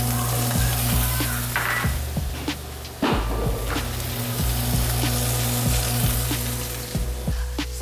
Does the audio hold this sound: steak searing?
yes